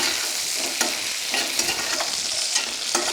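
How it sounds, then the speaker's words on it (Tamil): Fenugreek, garlic, ginger and tomato fry in a pan, giving a steady, close sizzle with soft stirring scrapes throughout and no voices. "வெந்தயம், பூண்டு, இஞ்சியில் ஒரு 2 துண்டு, ஒரு ½ தக்காளி, இது எல்லாத்தையும் கொஞ்சம் நல்லா பொன்னிறமாக வறுத்துக்கணும்."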